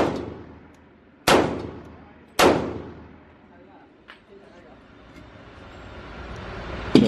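Gunshots at an indoor gun range, three loud close reports with long ringing decay spaced about a second apart, plus a fainter distant shot and another loud blast at the end.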